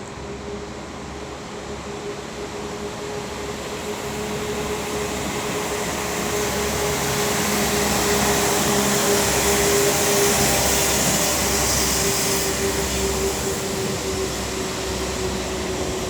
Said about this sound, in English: now departing the 197046 with the 1547 Transport for Wales service to Chester